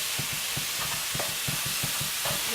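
Hamburger meat browning in a hot pan, giving a steady close sizzle with repeated soft thumps and scrapes as it is broken up and stirred.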